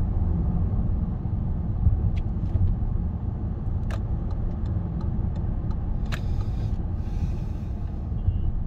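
A Toyota Camry's engine idles steadily at a standstill in traffic before a hard 0 to 100 acceleration, a constant low drone with a few faint clicks and beeps scattered over it.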